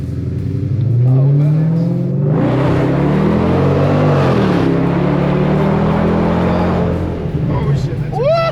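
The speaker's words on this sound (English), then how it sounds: "He did do a burnout." A tuned Jaguar car doing a burnout, its engine revving up loud and close and holding a sustained roar for several seconds, with excited voices around it.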